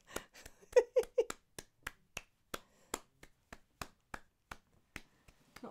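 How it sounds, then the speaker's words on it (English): Quiet hand clapping by one person during a live drawing workshop, a sparse series of sharp, light claps at an uneven pace, close and isolated in a quiet room. "I seem to be clapping forever."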